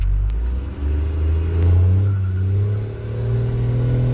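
Modified Cummins 12-valve diesel in a second-generation truck launching hard from a standstill with tires spinning, a loud, close, sustained low engine roar that climbs and holds as it accelerates.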